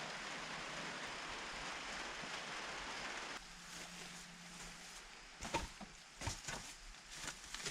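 Rain falls on an old wooden barn as a soft, hissing patter, faint and steady at first. It thins partway through and gives way to scattered knocks and creaks.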